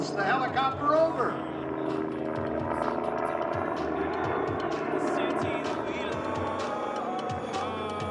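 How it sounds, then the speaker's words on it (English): A Red Bull aerobatic helicopter climbs and rolls over at an air show at Nellis AFB. Its rotor drone is steady and moderately distant, under a commentator's voice on the public address. "Blackie Schwartz now goes to the top and rolls the helicopter over."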